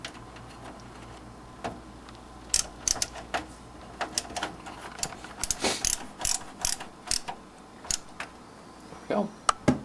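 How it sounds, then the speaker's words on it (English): A screwdriver ratchets and clicks as a screw fastens a frame into a Dell GX280 computer case, with rapid metallic ticking and clattering bursts close by. "Get our first screw that we took out. And screw the frame to the case."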